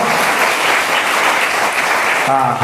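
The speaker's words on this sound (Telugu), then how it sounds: "గట్టిగా చప్పట్లు కొడుతూ దేవుని మహిమ పడతాం" A congregation at a Christian sermon gathering claps hard and fast, a dense, loud, continuous wash of many hands without a break for the whole stretch.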